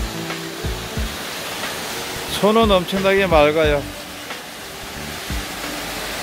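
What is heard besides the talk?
Yukdam waterfall in Seoraksan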